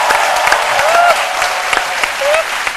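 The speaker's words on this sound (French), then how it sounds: "Magnifique, on l'applaudit trop fort." A studio audience applauds on a French-language midday TV magazine on RTI 1, with dense, steady clapping throughout and a few brief whistles or cheers rising above it.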